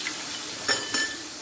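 Tomato and onion paste in a small amount of oil in a home kitchen, a soft steady sizzle broken by two short louder bursts of spattering or stirring close by.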